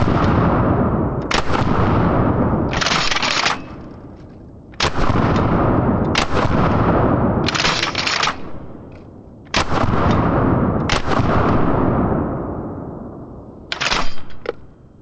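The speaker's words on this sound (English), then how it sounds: "you could probably see the shotgun had a lot more recoil than the AR-15 did" A 12 gauge shotgun and an AR-15 rifle fire outdoors in a string of loud, sharp reports, some single and some in quick clusters, separated by short pauses with ringing decay.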